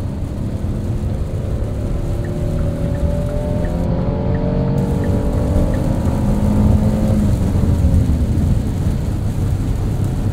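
2023 Kia Telluride SX-Prestige X-Pro V6 AWD SUV cruising on the road, heard from inside as a loud continuous rumble of road and engine noise with gently rising and falling engine tones, no talking.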